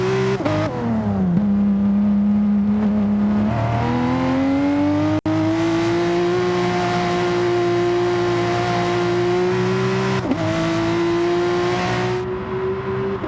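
Porsche 991 RSR race car engine in Gran Turismo Sport, a loud, continuous high-pitched scream with rising revs and brief dips at gear shifts, close and sustained with no talk.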